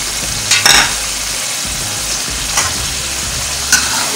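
Ground white cumin hits hot oil in a pot of tenday gosht, raising a steady sizzle and fry with a few sharp scraping bursts of stirring; no talking.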